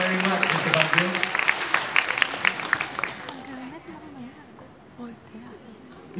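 A live audience applauds to welcome a singer back to the judging panel, loud crowded clapping that fades after about three seconds, leaving a voice speaking over low background.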